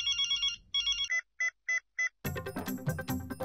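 Phone ringtone of an incoming call: a melodic electronic chime plays in repeated bursts, then short evenly spaced beeps, before louder music-like sound takes over near the end.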